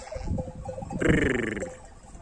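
A drawn-out sheep bleat rises over a low murmur of outdoor noise on a highland pasture in hot weather, with other animal sounds nearby.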